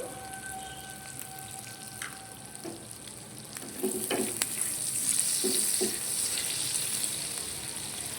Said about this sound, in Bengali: বাটারটা দেওয়ার পর আমি এখানে অল্প রসুন কুচি দিয়ে দেবো।